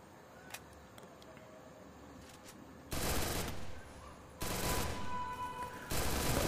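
Rapid bursts of gunfire from a Garena Free Fire Clash Squad match come in three loud, sustained volleys, separated by quieter stretches of game ambience.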